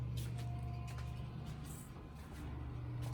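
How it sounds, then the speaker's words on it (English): A newly installed exhaust fan on a variable-speed variac control hums steadily at close range, a constant low drone with faint background clatter throughout. "And that noise you're hearing is our new exhaust fan over there."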